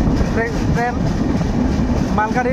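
A freight train rolls through a level crossing beside paddy and maize fields, with a steady, loud rumble and rattling wagon clatter filling the clip while someone talks over it.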